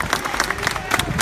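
Scattered clapping and crowd noise from an outdoor political rally in Arezzo, short and uneven, mixed with a voice speaking over it.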